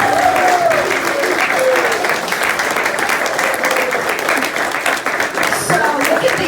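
Crowd at a political rally applauding candidates, a loud, sustained wash of clapping close by and continuing throughout, with a few voices and cheers mixed in.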